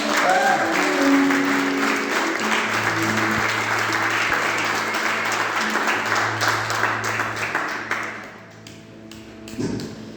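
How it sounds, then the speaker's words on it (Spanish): Loud, sustained applause from a church audience during a sermon, dense clapping that fills most of the stretch before thinning and fading near the end, with low hum and a voice or music tone underneath. "Dale otro fuerte aplauso"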